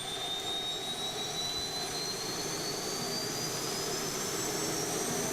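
Propeller and jet engines drone in Kerbal Space Program, a loud unbroken roar with a thin rising whine above it, steady throughout with no talk.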